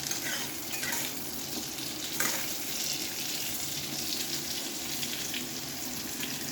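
Sliced pointed gourd (potol) fries in oil on a gas stove, giving a steady, close, even sizzle that stays unbroken throughout with no voices.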